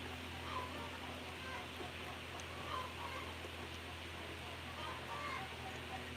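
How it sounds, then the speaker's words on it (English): Hens cackling inside nesting boxes on a rural South Dakota farm, a steady, busy layer of clucking and calls that continues for the whole stretch, with speech or other low activity mixed in. "You hear all that extra cackling? Those are the hens inside the nesting boxes."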